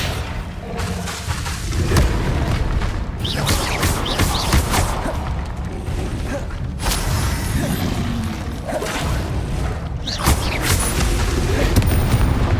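Bombarda explosion spells in Hogwarts Legacy on PS4, cast during a fight: a continuous, loud wash of booms, crashes and heavy thuds, with several sharper blasts standing out from the dense rumble.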